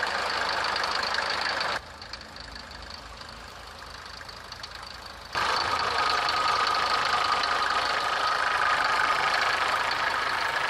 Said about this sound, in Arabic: رنة المرسيدس معروفة